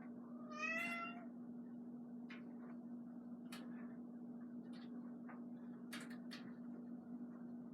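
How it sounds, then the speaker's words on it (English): A house cat gives one clear meow early on, then quiet indoor room tone follows with a low steady hum and a few faint knocks and clicks. "here comes my cat"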